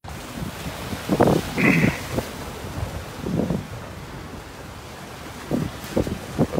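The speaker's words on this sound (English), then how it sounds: "Definitely some bigger waves out here. Pretty clean waves." Ocean waves break against a jetty on a windy day after a storm, with several low surges rolling in under steady wind noise buffeting the microphone.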